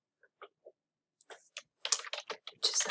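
Typing on a computer keyboard, a few sparse key taps followed by a quicker, denser run of close clicks, with no talk.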